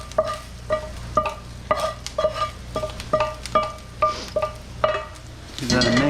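Sweet potato hash ingredients for a vegan breakfast land in a hot oiled pan and sizzle, then a utensil scrapes and taps against the pan in a steady rhythm over continuous frying hiss, close by.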